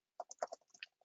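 Quiet, close typing on a computer keyboard in OneNote: a short burst of about a dozen light, uneven key clicks lasting barely a second.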